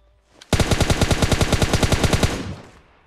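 A rapid automatic burst of gunfire in PUBG Mobile, about twenty shots in quick, even succession, loud and close, ending with a short echoing tail.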